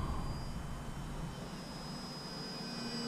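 An FT Trainer RC model airplane buzzes past, its faint, steady motor whine holding without a break over a few seconds against outdoor background noise.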